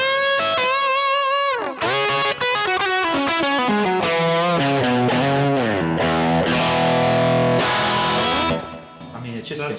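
Overdriven Strat bridge pickup through a 63 Fender Trem-Luxe amp profile with a Klon overdrive, played as a sustained, chorused, gritty electric guitar passage of chords and melodic lines, loud and continuous up close.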